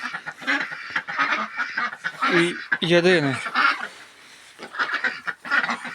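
An Indian Runner drake calls with raspy quacking honks, clearest in the middle, mixed in with someone talking close by throughout.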